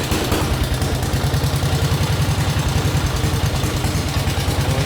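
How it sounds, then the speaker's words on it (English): A 1912 Harley-Davidson X8A motorcycle engine runs close and loud with a steady, fast low thumping pulse and mechanical clatter through the whole stretch, with no voices. "once you're spinning the motor over, bring it up to speed, drop the compression release, and it ought to fire right up"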